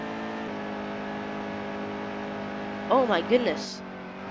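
Race car engine at Pocono in the NASCAR Heat 2 video game, a sustained buzzing high-revving drone held steady, with a man briefly exclaiming near the end.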